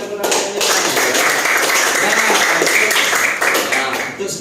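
A school class claps hands together after a lesson on electric circuits, a dense, continuous patter of many hands lasting several seconds, fairly loud and near, with some voices mixed in.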